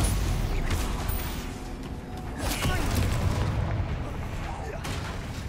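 Confringo blasting spells in Hogwarts Legacy burst as deep, rumbling explosions, several heavy booms in a row amid dense game noise, close and loud.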